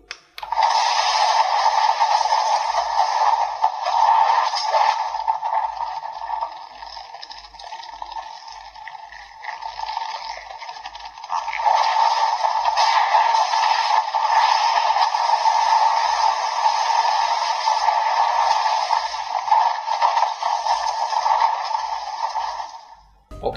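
Kamen Rider DX Century King Sun Driver toy playing its fighting sound effect through a small speaker, a long continuous noisy whooshing, scraping burst with a faint pulsing beat underneath, steady and loud, no talk.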